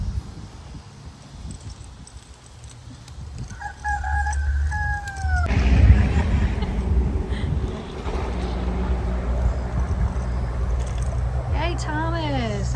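Chickens on a farm make a few clucking and crowing calls, moderately close, amid outdoor noise and a low rumble, while people talk nearby.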